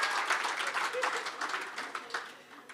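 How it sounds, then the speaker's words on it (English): Warm round of audience applause at a club AGM and awards evening, many hands clapping with distinct individual claps, strongest at first and gradually thinning out. "A warm round of applause for Michelle."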